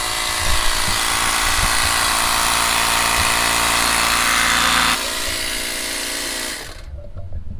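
A small 12-volt tire air compressor whirs and rattles steadily and loudly for about seven seconds, then cuts off abruptly, leaving near silence.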